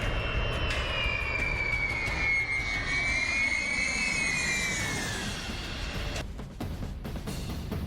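A B-52 bomber's jet engines roar loudly with a rising, wavering whine that sweeps in pitch, then the sound fades and turns rougher toward the end; no voices are heard.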